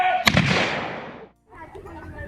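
A historical firearm fires a single loud blast during an outdoor demonstration at Plimoth Patuxet, its report rolling off into a long fading rumble, then a brief silence before a low background murmur resumes.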